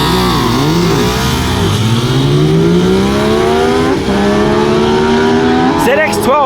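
A Ducati 959 Panigale and an older Kawasaki ZX12 drag race at Perth Motorplex, engines screaming loudly as rising pitch sweeps through quick gear changes, an announcer talking over the roar throughout.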